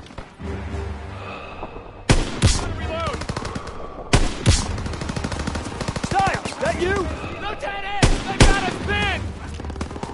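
Machine gun fire in Call of Duty WWII, with repeated loud rattling bursts of automatic shots and booming impacts across a chaotic battlefield, while soldiers shout between volleys.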